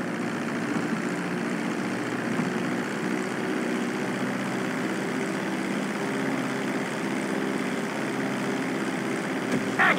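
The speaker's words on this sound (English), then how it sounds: "reducing the plane's altitude gradually so you're just above the runway as you approach" Fixed-wing plane in GTA V descending low over the runway on its landing approach, with a steady, even propeller and engine drone held throughout and no voices.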